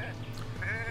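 A sheep bleats in the video game Renowned Explorers, a single wavering cartoonish bleat with a steady low game hum underneath, short and moderately loud.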